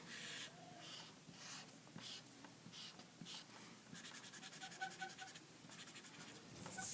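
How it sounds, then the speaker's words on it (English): A pen scratches across a classroom board while writing during a fractions lesson, faint scratchy strokes coming in short bursts with brief pauses between them. "And I'll write her name."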